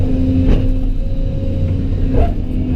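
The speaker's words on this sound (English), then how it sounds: "I got the dump truck stuck." A dump truck stuck in a wet, muddy spot has its engine revving hard in a steady, loud, close rumble with a couple of brief surges, no talking.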